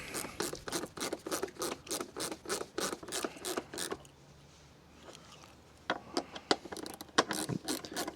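Bolts being tightened during a Scag Cheetah zero-turn mower rebuild: quick, steady ratcheting clicks up close, a short pause, then more uneven clicking and metal rattles.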